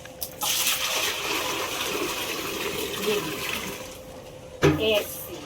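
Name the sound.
drawing water from a well with a bucket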